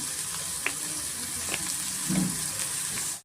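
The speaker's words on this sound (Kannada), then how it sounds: "ಈರುಳ್ಳಿ ಮತ್ತು ಕ್ಯಾಪ್ಸಿಕಮ್ ಚೆನ್ನಾಗಿ ನಮಗೆ ಫ್ರೈ ಆಗಬೇಕಾಗುತ್ತೆ" Onions and capsicum frying in hot oil for chicken liver pepper dry, a loud continuous sizzle with a few sharp stirring clicks, brief and close.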